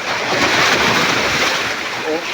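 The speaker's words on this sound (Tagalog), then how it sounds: "Oh, medyo malakas ang alon." Strong ocean waves surge at the entrance to a secret lagoon, heard as a loud continuous wash of surf mixed with heavy wind buffeting the microphone, as if heard from a boat.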